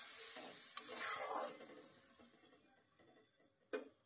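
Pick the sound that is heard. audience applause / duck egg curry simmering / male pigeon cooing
duck egg curry simmering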